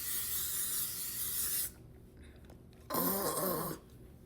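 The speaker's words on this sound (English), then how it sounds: "Freaking hairspray." Hairspray is sprayed to set finished makeup in two close, hissing bursts: a longer spray, a brief pause, then a shorter second spritz.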